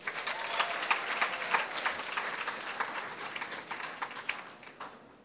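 Audience applause at an Equity Group Foundation gathering, a dense patter of many hands clapping at moderate distance that holds steady for several seconds before thinning out at the end.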